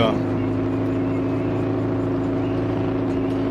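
A boat's motor maneuvering in the eSail sailing simulator game, a steady low engine drone that holds evenly throughout, with no breaks.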